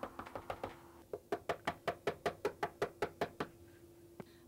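Knuckles rap on a house door in repeated bursts: two quick runs of knocks, then a steady series of about a dozen evenly spaced, fairly loud knocks, with one last knock after a pause. Nobody speaks.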